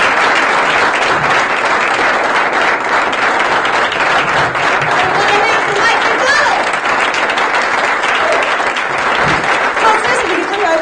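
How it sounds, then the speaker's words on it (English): Comedy club audience applauding a comedian coming to the stage, loud sustained clapping from a packed room with cheering mixed in, continuous for about eleven seconds. "Please, a nice round of applause"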